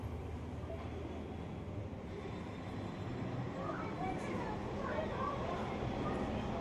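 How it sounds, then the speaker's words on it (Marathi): An underground Mumbai Aqua Line 3 metro train pulls into platform 1, a steady broad rumble filling the station with a faint, muffled murmur of people throughout. "चला तर ही मेट्रो आली बघा."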